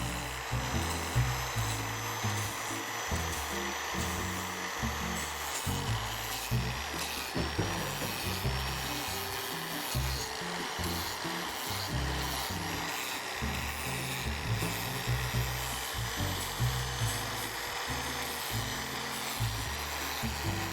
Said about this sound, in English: I'm going to go over the entire tiki and try and sand out those leftover carving marks and gouges